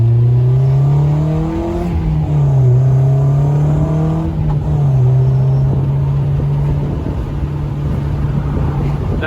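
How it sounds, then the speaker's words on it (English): A strong, steady engine roar from an Aston Martin, held at high revs with smooth pitch shifts and a couple of brief dips, running continuously and close. "That was Aston Martin."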